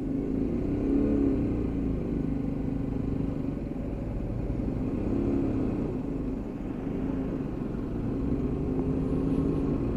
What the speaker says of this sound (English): Bike's running lovely.